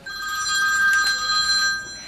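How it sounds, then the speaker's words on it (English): A telephone rings indoors, a bright electronic trill swelling to a steady level for about a second and a half before tapering off, with no voices over it. "As the phone rings."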